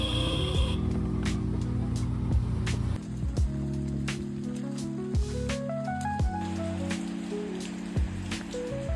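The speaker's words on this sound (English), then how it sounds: "Arriving in the pouring rain, we quickly jumped in a trike to our accommodation." Pouring rain patters and splashes on surfaces in the Philippines, with drips and a low engine-like hum underneath, steady and close.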